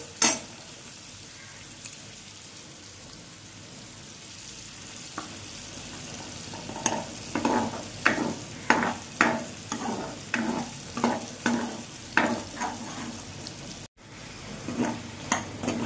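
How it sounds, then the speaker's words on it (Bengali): Potato and tomato sizzle as they are stir-fried in a pan, with a faint hiss at first, then a regular run of scraping spatula strokes against the pan over the frying. "দেখো আমরা এখানে টমেটোর সাথে আলুটাকে কষিয়ে নিচ্ছি।"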